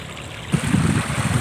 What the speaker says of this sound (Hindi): पूरा वाटरफॉल जैसा आ रहा है पानी